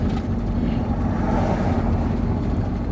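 A truck drives along the road toward Kryvyi Rih on its first trip of the year, heard from inside as a steady, loud, low engine-and-road drone mixed with wind rush. Nobody talks.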